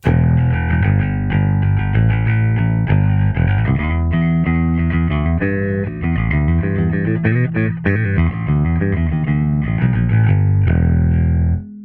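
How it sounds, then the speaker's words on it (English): A warm, round electric bass through a Line 6 POD Express amp modeler plays a steady riff of sustained, full notes, loud and close with no voices. "Let's start with the round sound, which is basically a basic sound of bass."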